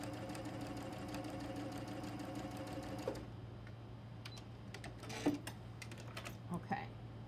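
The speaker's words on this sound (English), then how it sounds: "now I'm going to sew along this edge at a 1/4 inch" A sewing machine runs a quarter-inch seam along the edge of a fabric piece, humming steadily for about three seconds before stopping, followed by faint handling clicks and rustles.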